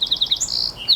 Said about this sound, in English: Oh, nice bird.